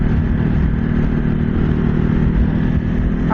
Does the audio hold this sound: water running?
no